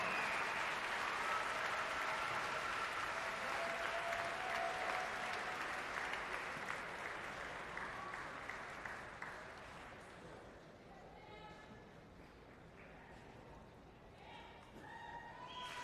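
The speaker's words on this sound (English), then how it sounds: "Another round of applause for Sam Briggs, Becca Boyd, and Annie Sakamo" Crowd applause and cheering at the 2019 Rogue Invitational fitness competition, a loud sustained burst that gradually fades over several seconds, with tonal whistles and cheers mixed in and the clapping thinning toward the end.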